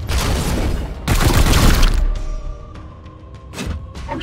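Heavy gunfire in Warhammer 40,000: Chaos Gate - Daemonhunters, two loud booming bursts a second apart followed by quieter clanks and a ringing tone, with no talking.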